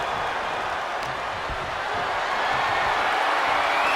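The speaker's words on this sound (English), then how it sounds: "What a raucous crowd here tonight." A crowd in a WWE wrestling video game roars as a dense, continuous wash of noise that swells slightly toward the end, with commentary voices heard faintly under it.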